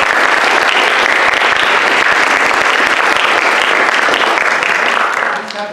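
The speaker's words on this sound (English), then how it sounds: "can we give all the tellers another big round of applause?" Loud, dense applause from a student storytelling slam crowd for the tellers, sustained evenly and then tapering off at the close.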